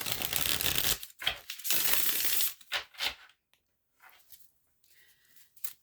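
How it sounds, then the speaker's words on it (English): Tarot cards being shuffled by hand, with several loud, riffling bursts of card noise in quick succession, followed by softer taps and brief handling sounds as the deck settles, close and without talk. "One more shuffle and then we'll get to it."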